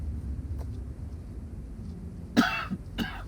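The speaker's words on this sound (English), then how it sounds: "That's why I started coughing." A man coughing, a couple of sharp close coughs in quick succession after a quiet stretch with faint earlier throat sounds.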